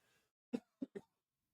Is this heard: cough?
yes